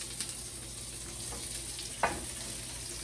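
Vegetables for Thai peanut shrimp sizzle quietly in a hot pan, a soft steady crackle with a few brief sharper pops and clinks, with no talking.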